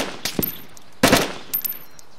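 Gunfire in the video game DayZ: two loud bursts of rapid shots about a second apart, followed by a few fainter, more distant reports.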